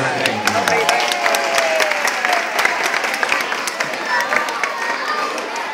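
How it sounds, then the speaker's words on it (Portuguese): An audience claps for children, with sharp, scattered hand claps ringing out while voices and crowd chatter carry on underneath. "salva de palmas para as crianças."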